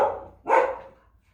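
Two short barks from a dog aimed at a police officer out of his car, the second louder, fairly close and alone without talk.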